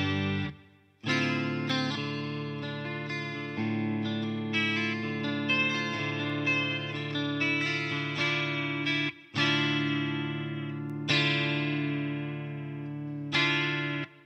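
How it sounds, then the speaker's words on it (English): Sustained distorted electric guitar chords through a TC Electronic Stereo Chorus+ pedal, with a gentle, shimmering chorus pitch wobble, ringing out and restruck several times with no voices. "the pitch modulation is very subtle"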